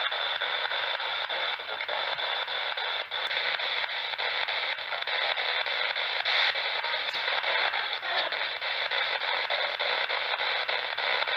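A radio plays steadily inside a house, giving a continuous hissing, static-like broadband sound at an even level for the whole stretch. No one speaks over it.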